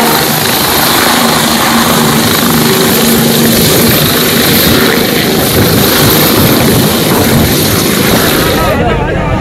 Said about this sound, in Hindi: जिनका विमान चुनावी सभा में लैंड करता है